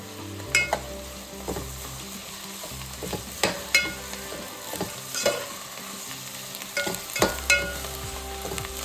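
Fresh coriander and mint leaves frying in a pan, a steady close sizzle broken by repeated scraping stirs and clinks of a spoon against the metal.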